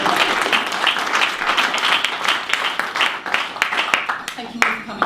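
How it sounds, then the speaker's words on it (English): An audience applauds for Chloe at an event on online voting, dense sustained clapping filling the room close and loud, with a voice briefly heard over it near the end. "Can we have a round of applause for Chloe?"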